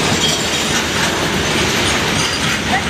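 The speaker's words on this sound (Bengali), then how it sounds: "এই দেখো ট্রেন গেলে, এবার দেখবা।" Train rolling past in Minecraft, a steady loud rumble with faint clatter that stays unbroken for the whole stretch, with no talking.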